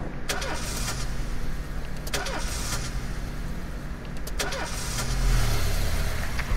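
A car engine in the police-management video game This Is the Police turns over in several short cranking bursts, then revs and swells louder toward the end, close and clear with no talking.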